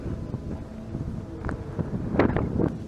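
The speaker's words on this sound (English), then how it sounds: "Hopefully this wind doesn't mess up the audio too bad." Wind buffets an outdoor microphone for about three seconds, a steady low rumbling roar with gusts that swell louder toward the end, with no voices.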